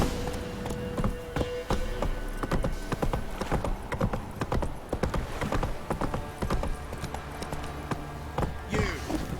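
Hooves of Geralt's horse Roach clip-clop in a steady, rapid gallop through The Witcher 3 game world, close and continuous, with occasional snorts and a whinny and faint game voices in the background.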